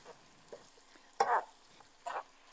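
Food being stirred in a pan while cooking gives a few short scraping, sizzling bursts, two of them louder than the rest, close and alone against quiet.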